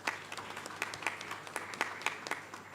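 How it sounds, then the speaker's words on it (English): A small audience claps at a conference on digital technology and poverty reduction, crisp individual claps standing out in a quiet room, fairly faint and steady. "So please want us to give him a round of applause."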